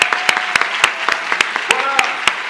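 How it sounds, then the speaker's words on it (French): Scattered, distinct claps from a small audience at a conference greet a technician, the individual hand strikes sharp and close over a background of voices. "on peut l'applaudir"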